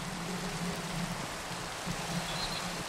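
Rain falling in the video game Minecraft, a steady soft hiss of rainfall with a faint low hum underneath, even throughout.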